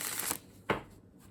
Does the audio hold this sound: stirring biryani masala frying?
no